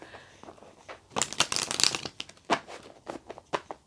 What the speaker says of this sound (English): I'm just going to give them one more shuffle